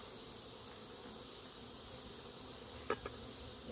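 Honeybees drone steadily around an open hive during a powdered sugar treatment, a faint continuous buzz with one brief, sharper knock near the end.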